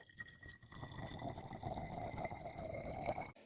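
Water is poured carefully into the tank of a SilverCrest hand-held steam cleaner, a soft, steady close trickle that runs for a few seconds and then stops abruptly.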